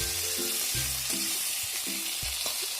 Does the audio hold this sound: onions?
yes